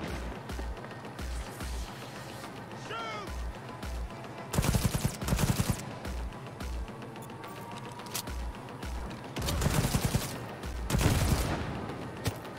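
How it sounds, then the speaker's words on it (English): Gunfire in Cyberpunk 2077, bursts of loud close shots and rapid volleys in repeated clusters over game ambience and a low thudding beat. "Opening fire."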